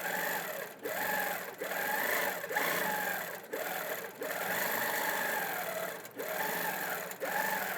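A sewing machine free-motion quilting runs in steady bursts, its motor whirring continuously with brief pauses as the quilt is advanced, close and fairly loud throughout.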